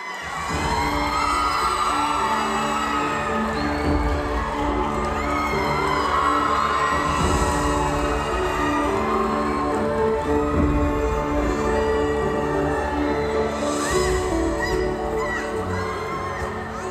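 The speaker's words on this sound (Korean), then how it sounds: "뜨거운 박수 부탁드리겠습니다" Audience applause and cheering at an open talk event in Busan for the film Burning as the actors come on stage, a dense sustained roar of clapping and whoops with a music bed underneath, loud and continuous throughout.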